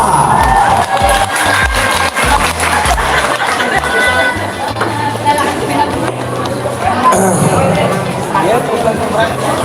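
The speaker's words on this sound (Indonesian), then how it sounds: "Beri tepuk tangannya meriah" A crowd at a stand-up comedy show cheers and shouts loudly and continuously, a lively mix of voices with scattered clapping throughout.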